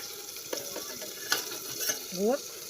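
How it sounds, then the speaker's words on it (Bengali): Spinach frying with salt in a pan, a brief faint sizzle broken by a few sharp clicks and scrapes of a utensil stirring against the metal. "লবণ দিয়ে একটু ভাজা ভাজা হোক"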